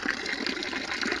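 A forest fountain pours in a steady, close stream, water splashing and gurgling into a basin with no break and no voices.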